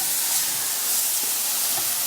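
Turkey burger patties frying in a pan give a constant bright hiss and sizzle, close and steady throughout, with no voices.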